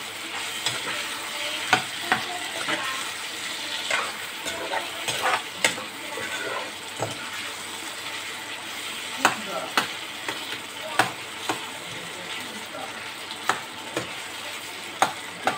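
Tomatoes fry and soften in a pan, a continuous close sizzle broken by frequent stirring clicks and scrapes of a utensil against the pan at irregular intervals.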